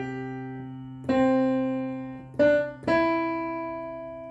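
Three struck piano notes play the Jingle Bells chorus rhythm: a medium note, another medium note, then a longer sustained one. Each sounds clear and close, over a faint held low tone, with no talking.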